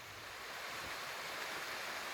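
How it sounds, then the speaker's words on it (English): Steady rushing water fills the scene, a constant broadband wash from a small waterfall spilling into a creek along the Pacific Crest Trail, with no voices. "Here's a little waterfall and a creek."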